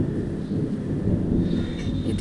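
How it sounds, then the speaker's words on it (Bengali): Outdoors under gusty wind, thunder rolls as a deep, sustained low rumble that fills the short stretch, with wind buffeting the microphone. "আর এই যে মেঘ ডাকছে।"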